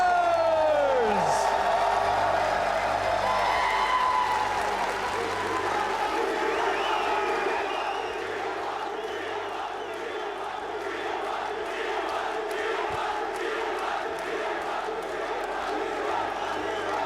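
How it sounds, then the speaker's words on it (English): A large arena crowd at the League of Legends Esports World Cup final cheers and roars continuously, loud at first and then settling into a sustained din. "And you can just hear the crowd."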